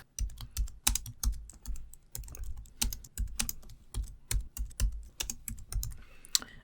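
Rapid keystrokes on a computer keyboard as a Linux command is entered, a steady run of close, crisp clicks with short pauses between bursts, no voices.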